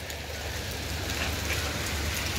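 Steady rain falls without pause, a dense even hiss of drops on surfaces, close and fairly loud with no talking over it.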